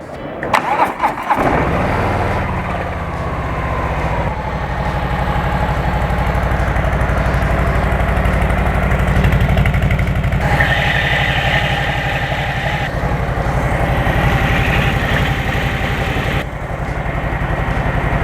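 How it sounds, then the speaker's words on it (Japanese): An air-cooled Harley-Davidson Street Bob with twin exhaust pipes cranks and fires up, then settles into a loud, lumpy, throbbing idle that carries on with small rises in revs, heard close with no talk. "ストリートボブエンジンかけます。"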